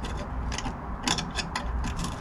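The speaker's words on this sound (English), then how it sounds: "got my little mini grinder here" A small mini grinder works on the rusty body of a Rover P6, giving a harsh, steady whine with rhythmic scraping pulses as it bites into the metal.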